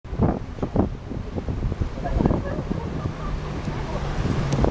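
Wind blows across a palm-lined waterfront promenade in Argentina, rumbling over the microphone in steady gusts, with voices and a few small knocks mixed in.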